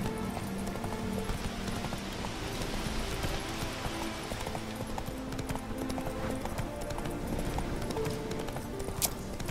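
Horse hooves clip-clopping steadily in the video game The Witcher 3, a quiet, even rhythmic trot that continues throughout with faint background ambience.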